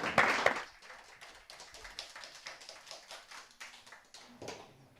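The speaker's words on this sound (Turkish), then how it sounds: "Alkışlarınız Hülya Aris için gelsin." Applause from a studio audience on a Turkish-language variety show, a loud burst at the start settling into steady, moderate clapping that tapers off, with a faint voice near the end.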